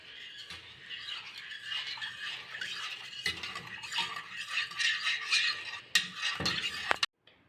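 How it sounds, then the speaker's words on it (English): Soft scraping and clinking of a utensil stirring salt into water in a container to make olive brine, continuous and close, with a few sharper taps toward the end. "we have to mix the salt into the water so that it dissolves in the water"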